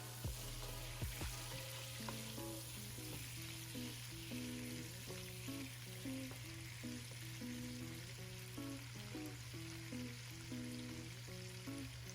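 Spices fry in a pan as a faint, steady hiss of sizzling that runs throughout, sitting low beneath a rhythmic tonal melody and a constant low hum.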